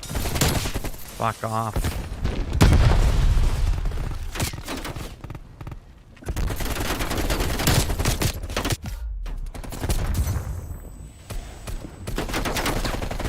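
Video game gunfire rattles in dense, loud automatic bursts with short breaks between them, and someone speaks briefly over the shooting.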